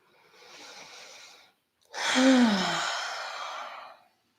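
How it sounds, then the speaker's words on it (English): Two slow, deep breaths up close, a softer inhale followed after a brief pause by a longer, louder exhale with a slight voiced sigh. "Start to take a deeper breath here."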